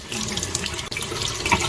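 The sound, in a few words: tap water running while rinsing apples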